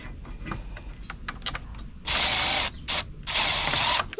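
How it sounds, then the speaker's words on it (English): A hand ratchet tightens a 9/16 nut and bolt on a Can-Am Maverick R headlight mount, with quick clicking strokes giving way to several loud, close bursts of rapid ratcheting. "then you tighten up the 9/16 nut and bolt that are on the inner side"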